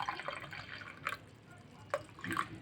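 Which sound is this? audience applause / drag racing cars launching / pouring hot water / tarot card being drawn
pouring hot water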